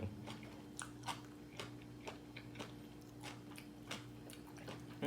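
Crunchy chewing of large clams pounded into a spicy salad with stink beans, with irregular crisp bites and snaps repeating close to the mic over a low steady hum.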